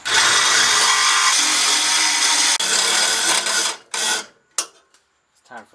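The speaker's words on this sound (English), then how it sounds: "I just clamped it in and I'm going to cut it with the Sawzall" A Sawzall reciprocating saw cuts through clamped metal in a mobile fab shop, a loud close buzzing grind that runs steadily, then stops and restarts in short bursts before falling silent.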